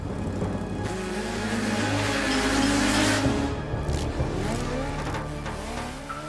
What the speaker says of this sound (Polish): Masywne 80-centymetrowe koło wiruje w miejscu.